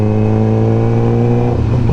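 A motorcycle riding through heavy road traffic, its engine droning steadily and loudly up close, the pitch shifting slightly near the end, with no talk.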